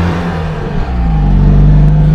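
A Citroën 2CV pulls away on a drive home, its small engine giving a steady, close, loud droning hum that rises slightly in pitch as the car gathers speed.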